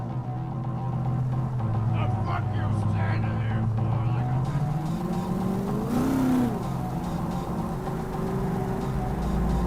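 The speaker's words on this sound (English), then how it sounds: "Jackie's car is a super-powered sports car running on Chew-2, the super fuel of the future" A super-powered sports car fueled by Chew-2 in the Cyberpunk 2077 video game idles with a low drone, then its engine revs up sharply to a rising whine before settling, with faint game voices and sounds around it.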